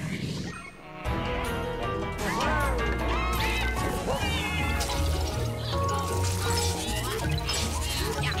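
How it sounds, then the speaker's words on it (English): In a Luigi's Mansion 3 video game, a cat meows repeatedly with rising, wavering cries over busy game music and crashing effects, loud and continuous after a brief quieter start. "I hate this fucking cat."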